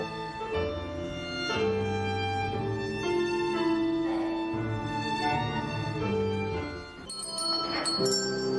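Bells open a piece played by a social orchestra, a series of sustained, ringing struck tones that overlap and decay, followed near the end by brighter, higher metallic strikes, with no voices.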